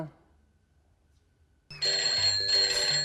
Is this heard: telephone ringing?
yes